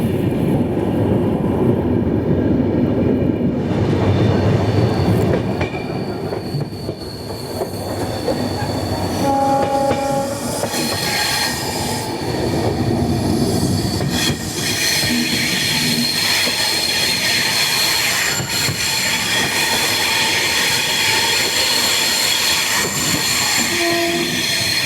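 The Capital Express passenger train, running from Kamakhya to Siliguri, rumbles loudly and steadily from on board, with rattling carriages, wheel squeal and a brief horn sound partway through.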